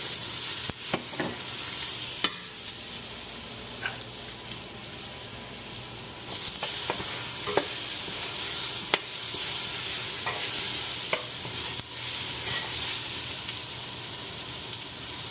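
Garlic fries in oil with a constant bright sizzle and hiss, broken by scattered clicks and scrapes of a utensil stirring in the pan, close and alone without talk.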